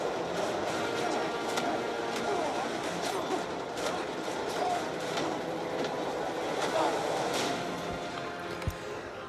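Train sounds from the climax of a Mission Impossible movie: a continuous rolling rumble with clattering rail noise and scattered metallic knocks, held at a constant level throughout.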